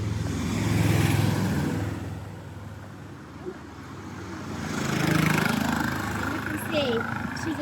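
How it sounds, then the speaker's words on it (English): Passing cars on a busy road, engines swelling and fading as vehicles go by at moderate distance, with a quieter stretch between two louder passes and a faint higher whine near the end. "This road is getting so busy."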